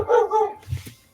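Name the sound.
dogs barking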